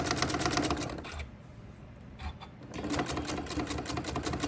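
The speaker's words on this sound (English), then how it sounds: "I'm going to drop my needle and back up a couple stitches and then start coming around" A sewing machine stitches in fast, even bursts, pauses briefly with a few isolated stitches as it turns a corner, then resumes steady running, fairly quiet and close.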